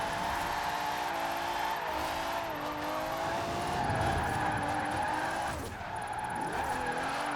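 An underpowered drift car in the racing game Forza Horizon 4 holds a steady engine drone with tire skidding through a long slide, loud and continuous, with a brief dip near the end.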